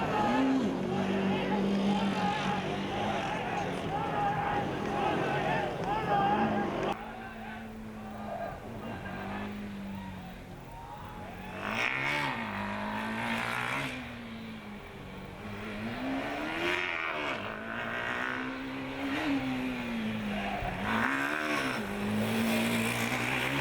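A Formula Student race car on an endurance track, its engine rising and falling in pitch through repeated revs and gear changes, with a commentator talking over it throughout.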